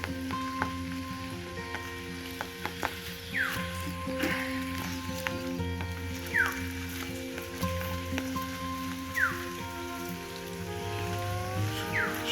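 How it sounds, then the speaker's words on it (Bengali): Heavy rain pours down steadily in low-pressure weather over flooded village homes and gardens, a constant close wash of drops with faint tonal sounds running underneath. "একটু পরপর বৃষ্টি হইতেছে অনেক"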